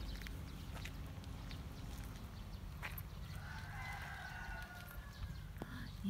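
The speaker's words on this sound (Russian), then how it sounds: "И петухи поют." Roosters crow in the distance near a forest glade by a church along the Zeya river, faint drawn-out calls over a quiet outdoor background.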